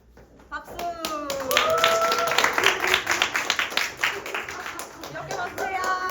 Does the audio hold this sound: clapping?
yes